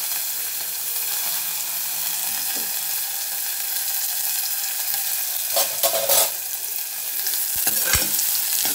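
Green chillies and curry leaves frying in a pan give a continuous, even hiss of hot oil, close and steady, with a brief louder burst and a couple of sharp clicks of utensil near the end.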